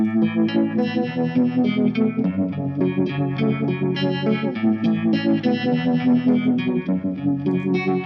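An electric guitar, miked close at the amplifier, plays with a thick, distorted, chorus-laden tone, a continuous busy riff sounding loud and close.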